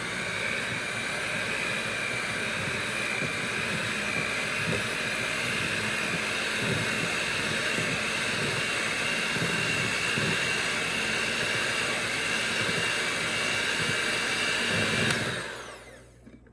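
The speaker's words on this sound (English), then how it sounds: "we're going to turn this on to low speed" An electric hand mixer runs on low speed in a bowl of dough for a fruit pizza, giving a steady, loud whir that holds unbroken throughout before cutting off near the end.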